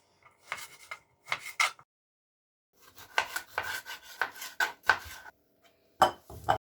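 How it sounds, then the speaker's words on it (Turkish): A knife taps and scrapes on a cutting board in short bursts, chopping tomatoes into large chunks, with pauses between, close and fairly quiet. "Domateslerin başlarını alıyorum. İri kuşbaşı halinde doğruyorum."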